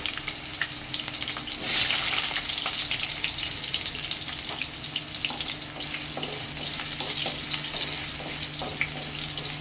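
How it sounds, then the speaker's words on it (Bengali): Potatoes frying in oil until reddish-brown, a soft, steady sizzle and crackle with a brief louder hiss early on, and no one speaking. "আলুগুলো লাল লাল করে ভেজে নিয়েছি"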